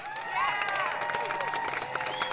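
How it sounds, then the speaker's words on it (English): A studio audience at a try-not-to-laugh challenge gives a round of applause, with faint, distant clapping mixed with drawn-out cheering voices that carry steadily throughout. "One more round of applause to Nickel!"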